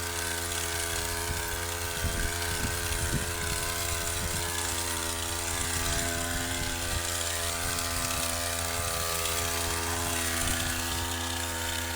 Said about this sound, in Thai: เดี๋ยวเราจะเอาโดรนไปพ่นให้นะครับ